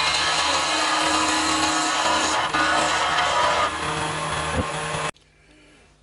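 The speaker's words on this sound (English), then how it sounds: "I've just been using a little spindle gouge, a 3/8 spindle gouge, and now I'm having to go with a little skew." Wood lathe spinning a pen blank while a small spindle gouge cuts it, a steady loud whirring scrape with a constant hum that runs unbroken for about five seconds before abruptly stopping, leaving a faint low drone.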